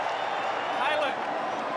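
A rugby league stadium crowd at an NRL match between the New Zealand Warriors and the Newcastle Knights, a broad, distant wash of cheering and clapping under a commentator's voice.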